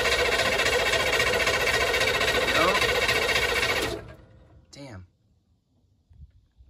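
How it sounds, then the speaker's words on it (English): A Humvee engine cranks while a restart is attempted, a loud, steady rhythmic churning that cuts off after about four seconds, followed by a brief squeal and quiet background sounds. "Every time we like jiggle something or change something, we have to try and restart it."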